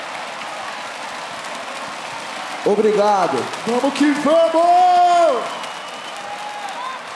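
A rap battle crowd cheers and roars for several seconds, loud and close, swelling in the middle and fading, with someone shouting over the crowd through a microphone.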